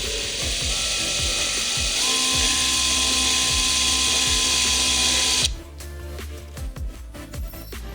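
A power drill whirs steadily for about five seconds driving a screw through a hook for mounting grow lights, then cuts off, leaving a few light clicks and handling noises.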